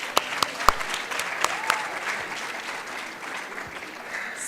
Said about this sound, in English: A big clap for Somalia's delegation